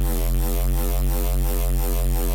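A steady, buzzy synthesized square-like neuro bass tone from Phase Plant, held without change, dense with harmonics and loud throughout.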